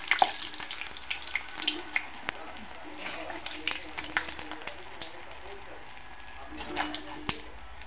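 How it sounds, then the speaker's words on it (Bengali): Small rice and ash gourd pitha fry gently in oil with a soft continuous sizzle. Frequent light pops and spatters run throughout, along with occasional utensil clinks. "আস্তে আস্তে হালকা করে ভেজে নেব।"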